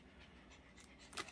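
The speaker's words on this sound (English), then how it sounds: "If you hear something panting in the background, that would be my dog" A dog pants faintly in the background of a quiet room, soft rhythmic breaths repeating through a short stretch, with one brief louder burst near the end.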